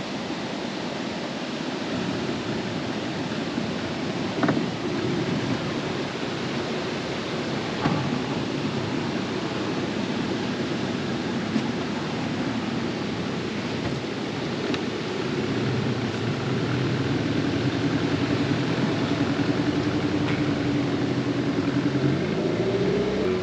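A boat engine starts and runs steadily in the Amazon near a roaring waterfall at Corona Falls, its motor drone mixed into continuous loud rushing water, with a rising engine tone near the end.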